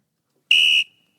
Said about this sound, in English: Why did you just set a whistle off?